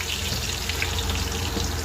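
Garlic, ginger and onion sauté in a hot pan, giving a dense, steady sizzle throughout with a watery hiss and faint stirring, close and unbroken.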